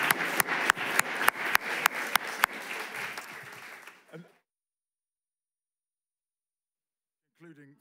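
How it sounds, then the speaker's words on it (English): A conference audience at a COP28 side event applauds a panel: a dense burst of clapping with sharp individual claps for about four seconds that fades out, then silence, and a brief voice near the end. "Let's give a hand of applause to the panel."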